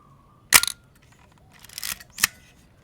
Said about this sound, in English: Now I'm gonna show you the shutter itself.